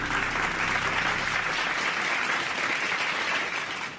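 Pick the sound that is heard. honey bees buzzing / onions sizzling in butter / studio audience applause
studio audience applause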